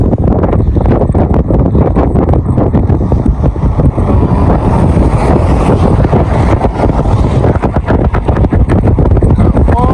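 Strong wind buffets the microphone during a river crossing, a loud, constant rumbling roar with gusty fluctuations throughout that nearly drowns out any other sound.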